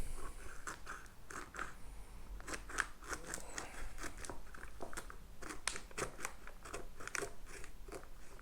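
Scissors snipping through a plastic food storage bag while dry foods are packed for long-term storage, a quick series of sharp, close cuts at an uneven rhythm against a faint background hum.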